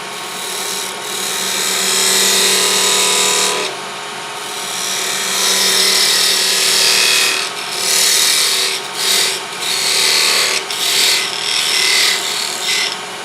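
Wood lathe parting cut into a turned wooden salt box, a continuous scraping, rasping tool noise with uneven surges and brief dips as the cutter is fed in, close and loud with no talk.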